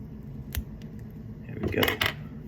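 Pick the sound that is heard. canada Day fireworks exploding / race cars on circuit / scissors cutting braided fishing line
scissors cutting braided fishing line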